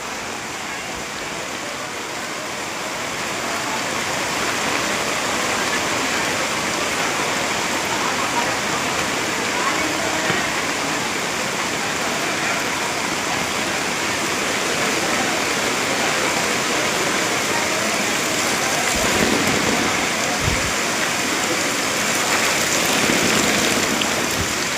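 Heavy rain pours down with a steady roar, joined by the rushing wash of flood water flowing through a flooded market street, continuous and close.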